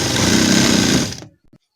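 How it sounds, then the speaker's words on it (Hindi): A sewing machine stitches gharara fabric, a steady close mechanical whirr for about a second and a quarter before it stops abruptly, followed by a couple of faint soft handling sounds. "दूसरे हिस्से पर भी हम सिलाई इसी तरीके से लगाएंगे।"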